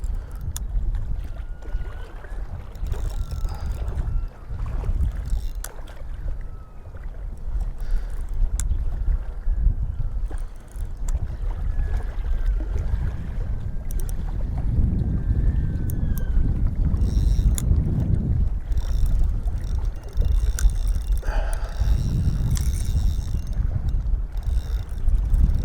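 Steady wind gusts over a carp fishing lake in the early morning, a continuous low rumble of buffeting air with swelling and easing gusts and no voices.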